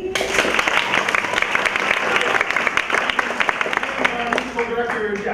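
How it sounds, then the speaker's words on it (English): A comedy show audience applauds the stage manager with dense, steady clapping that fills the room, while a voice talks over it. "A round of applause for our stage manager,"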